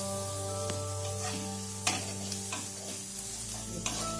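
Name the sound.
frying onions for biryani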